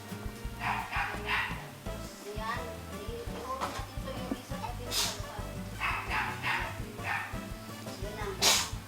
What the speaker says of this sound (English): Neighboring dogs.